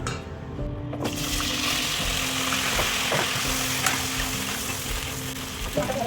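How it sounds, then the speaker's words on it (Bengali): Mixed vegetables frying together in a pan, a steady crackling sizzle with occasional stirring clatters and a faint tonal hum beneath, close and continuous throughout. "বাকি সবজিগুলো এখানে পুরোটা ভাজা দেবো"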